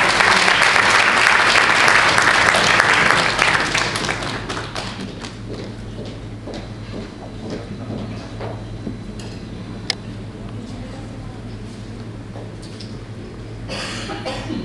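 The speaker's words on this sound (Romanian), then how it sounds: "Aplauze pentru toți." Applause for a group of named participants at a Romanian mediation event, loud dense clapping for about four seconds that thins into scattered claps, taps, thuds and a cough in a quieter room.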